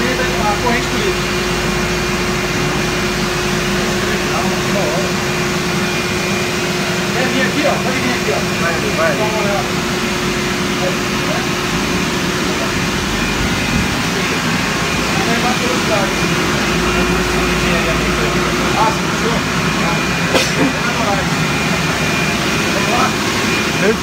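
A roller coaster's drive system of motor and gear reducer runs steadily, a constant low mechanical hum with a faint whine that holds level throughout, loud and close with no breaks.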